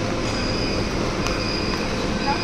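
A Delhi metro train pulls out of a station, its steady rolling rumble accompanied by a thin high wheel whine and a faint click, continuous and fairly close.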